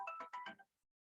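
A phone ringtone plays four quick tonal pulses in a rapid burst, then cuts off into silence, fairly faint with no voices.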